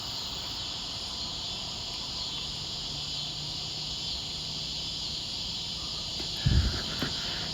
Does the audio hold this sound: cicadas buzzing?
yes